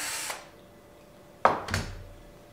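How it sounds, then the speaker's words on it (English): A drill bores a countersink for a screw into antler, giving two short, close grinding bursts after an earlier faint buzz, with quiet gaps between. "Countersink or recess that screw"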